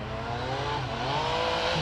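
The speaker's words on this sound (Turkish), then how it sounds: "Çok güzel safkan motosiklet sürüş hissiyatını veren bir motosiklet." A Yamaha MT-09 motorcycle engine runs in a short, steady burst with a rising, revving tone, heard alone without talk.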